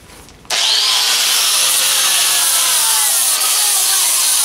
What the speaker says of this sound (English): Just give it a going over with the grinder to sort of carve it down and clean it up.